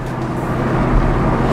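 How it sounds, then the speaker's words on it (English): Ford Mustang Mach 1 engine and exhaust during a downshift, a loud, steady low rumble that fills the whole moment with no talking over it. "Here's a downshift."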